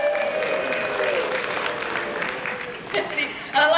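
A comedy club audience claps in a sustained spatter of applause that swells near the end, with voices and a speaker talking over it.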